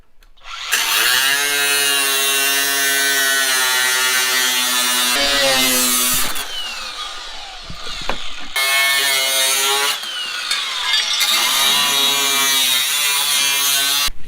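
A power tool cuts metal parts off an off-road vehicle, loud up close, a high-pitched whining grind broken into several bursts with short pauses and pitch drops as it loads up.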